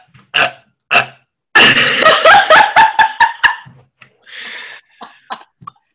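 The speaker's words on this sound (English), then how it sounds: "don't know if you just burped or if there's a Lego stuck in your throat" A girl in a burping contest lets out a long, loud, croaky burp broken into several rapid pulses, preceded by a couple of short throaty bursts and followed by faint chuckles.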